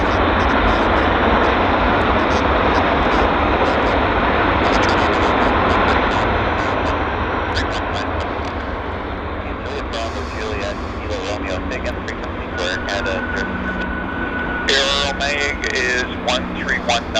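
A passenger airplane touches down at Vancouver airport, a loud broad roar of engines and wind rushing steadily and slowly easing, with a person talking over it.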